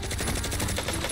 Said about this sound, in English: gun down my first victim before reloading